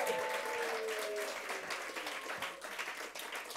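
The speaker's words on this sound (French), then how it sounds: "Alors, on va faire un petit applaudissement à Manu." A small crowd at a church gathering gives steady, even applause for a birthday, lasting a few seconds with no voices over it.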